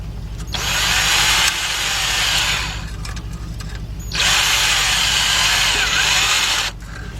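Power tool tightening an exhaust clamp under a 2004 Nissan Maxima, two loud bursts of whirring impact-style drilling separated by a short pause, close by with a low idle hum underneath.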